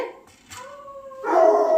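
A household dog gives a short howling whine and then a louder bark nearby, a brief close vocal burst in an otherwise quiet kitchen.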